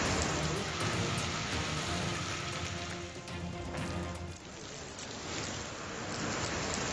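Unseasonal November rain in Sindhudurg, Maharashtra, falls steadily as a dense, continuous hiss of drops on surfaces, moderately close, with no voices.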